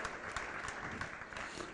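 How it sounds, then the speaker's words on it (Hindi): Audience applause at a religious discourse gathering, a short burst of dense, even clapping from a crowd, moderately faint and steady for under two seconds. "तालियां बजाकर गौरव करिए"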